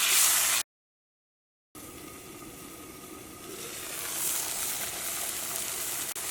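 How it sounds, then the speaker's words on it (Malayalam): Ash gourd curry bubbles and hisses in a pan while being stirred, a soft, steady simmering noise broken by a brief silent gap near the start. "കറി തിളച്ചിട്ടുണ്ട്. നമുക്കൊന്ന് ഇളക്കിയിട്ട് കൊടുക്കാം."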